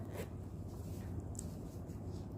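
A zipper is handled while a hidden zipper is sewn into a skirt, giving faint, quiet rasps and ticks over a low, steady room hum.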